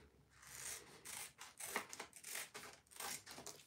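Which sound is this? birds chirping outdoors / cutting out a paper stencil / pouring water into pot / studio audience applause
cutting out a paper stencil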